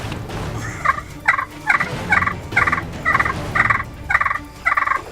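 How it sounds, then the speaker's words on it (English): Two wild turkey gobblers gobble repeatedly in the distance during a spring turkey hunt in Alabama, about nine rattling gobble bursts in steady succession over faint outdoor background. "2 gobblers."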